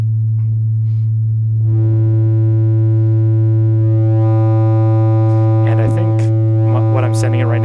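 Feedback synth module tone with the low EQ boosted, a loud, steady, heavily bass-weighted drone with bright overtones swelling in partway through, alone without talk.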